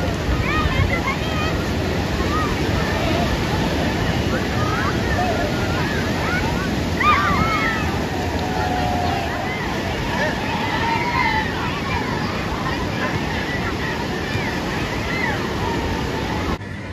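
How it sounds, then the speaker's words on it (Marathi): Ocean waves wash onto a sandy beach near Udupi in a continuous roar of surf, with wind and distant crowd babble mixed in and faint voices over the steady wash. "चांगला आहे बीच, बऱ्यापैकी चांगला आहे."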